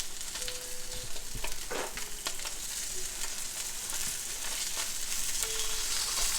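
Spam sizzles and fries in a pan, browning and crisping, with a steady close crackle and a few stirring scrapes and clicks over it and no voices.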